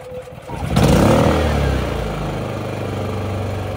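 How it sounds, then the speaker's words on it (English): EcoFlow smart generator running on propane fires up at the push of a button, a brief starter whir rising into a steady mid-pitched engine idle that settles and holds close by. "When you have it hooked up to propane though, and you press this button, it basically fires up first try right away every time"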